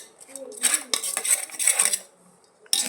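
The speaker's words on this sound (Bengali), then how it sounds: "কাসন্তি দিয়া আমি লাড়া দিলাম পেঁয়াজ মরিচ" Jhal muri, puffed rice with kasundi mustard sauce, onion and chili, tossed and stirred in a metal bowl. Busy scraping and clattering strokes come in uneven bursts, close and fairly loud, with a short pause before a final clank.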